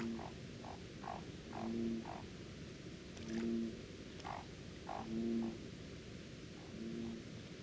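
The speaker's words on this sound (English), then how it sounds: "His voice sounds a little like a snore, but his croaks attract a female to the pond." Male leopard frog croaking at a pond during breeding season, a low snore-like call repeating in regular short pulses over a steady hiss of ambient background noise.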